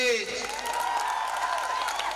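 Audience applause with scattered cheers at a live comedy show, a steady dense wash of clapping and crowd noise throughout, with voices mixed in.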